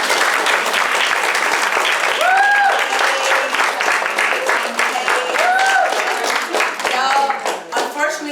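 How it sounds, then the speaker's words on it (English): An audience applauds at a leadership event with sustained, dense clapping throughout. Speech and brief tonal sounds carry over the applause. "Can you please clap for Lisa?"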